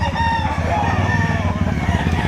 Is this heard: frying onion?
no